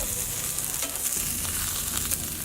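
A salmon fillet sizzles in a hot oiled pan, turned to sear its other side, with a constant close crackling fry and a few faint clicks and scrapes of cookware. No one speaks.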